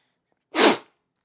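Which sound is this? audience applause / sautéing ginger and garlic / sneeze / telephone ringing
sneeze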